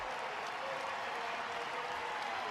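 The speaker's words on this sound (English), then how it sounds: "And the crowd appreciative" Steady, dense applause from a packed arena crowd at an NCAA women's volleyball match between Penn State and Nebraska, a continuous roar of clapping at even volume throughout with no pauses.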